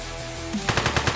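Gunfire in the video game One-Armed Robber: a quick burst of about six rapid, punchy shots rattles out loud and close after a brief lull.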